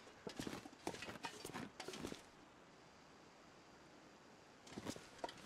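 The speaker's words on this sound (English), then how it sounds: "it's probably just my own footsteps" Footsteps of a player character crunching along outdoors in the survival video game The Long Dark, a quick run of steps for about two seconds, a pause, then another short burst of steps, fairly close and moderately quiet.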